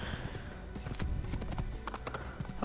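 Hoofbeats of a galloping horse in the Assassin's Creed video game drum rapidly and evenly up close, loud and mostly alone with little talk.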